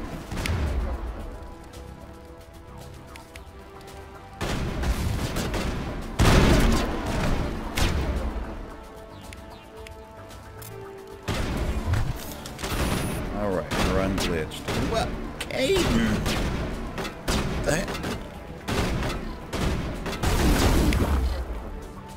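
Pistol fire in the Mass Effect video game, with loud gunshot bursts in several clusters under a steady game soundtrack, while someone talks over parts of it.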